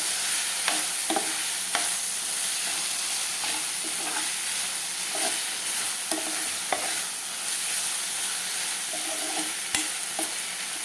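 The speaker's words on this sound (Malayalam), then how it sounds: "ഗ്രീൻ പീസും കൂടെ ചേർത്ത് കൊടുത്ത ശേഷം വീണ്ടും ഒന്നുകൂടെ വഴറ്റിയെടുക്കുക." Soya chunk keema masala with green peas being stir-fried in a pan, a steady close sizzle and hiss broken by repeated scraping and clacks of the spoon against the pan, with no talk.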